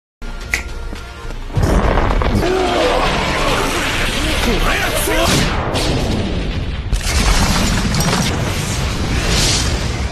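A huge blast in an anime erupts suddenly, a loud broadband boom with sustained rumbling and crackling debris that carries on for several seconds, followed by a second surge of roaring noise.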